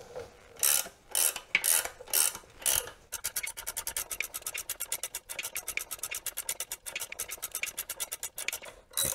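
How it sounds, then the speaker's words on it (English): Ratchet wrench tightening a 7/8 screw during a DIY vehicle suspension rebuild: a few separate bursts of clicking, then a long steady run of rapid close ratchet clicks, with no talk. "This screw is a 7/8, and we'll just start tightening it."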